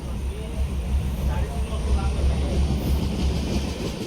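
A passenger train runs steadily from Bandra Terminus toward the Konkan, heard from inside a nearly empty coach as a continuous low rumble and rattle with faint rhythmic wheel beats.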